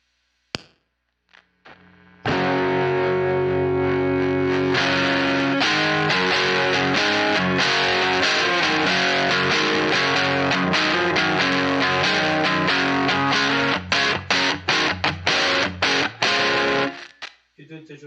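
Electric guitar played through a JHS Pack Rat distortion pedal in its JHS mode, a loud, thick, saturated tone with sustained chords giving way to choppy, stabbed strums near the end before cutting off.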